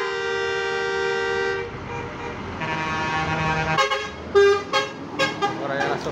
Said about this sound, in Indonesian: Saling klakson.